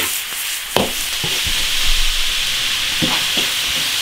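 Braised beef stir-fried with local chili peppers in an iron wok, with a steady sizzle under repeated scraping strokes of a spatula and a few sharp knocks against the pan.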